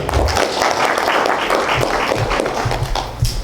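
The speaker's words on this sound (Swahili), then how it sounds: "Mpigia makofi." A crowd at a community dialogue forum on power service delivery claps, a dense, loud, steady burst of applause that fills the room throughout.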